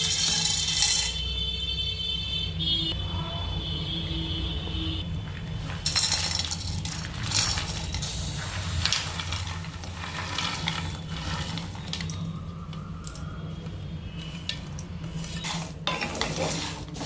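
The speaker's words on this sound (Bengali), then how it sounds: "এগুলোকে জাস্ট একটা ড্রাই রোস্ট করে নিয়ে হালকা করে একদম ড্রাই রোস্ট করে" Dry thandai mix ingredients scraped and stirred in a hot kadai, with steady rustling, light clinks of the spoon against the metal and a soft sizzle running continuously, no voices.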